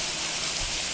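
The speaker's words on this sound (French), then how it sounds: "regarde, c'est une cascade" A waterfall rushes in a steady, hissing wash of falling water, continuous and fairly distant.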